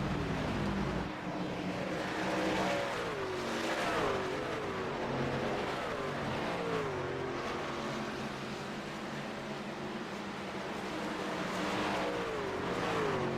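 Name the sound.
race cars on Dover oval in iRacing video game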